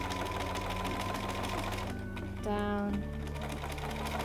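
A sewing machine stitches bias binding in a straight line, a fast close mechanical whir that pauses and restarts, with a soft voice speaking over it.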